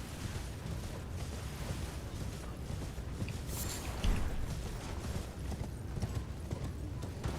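Hooves clatter in a rapid, steady gallop as a horse is ridden in the video game Elden Ring, a continuous mid-level rhythmic drumming without speech.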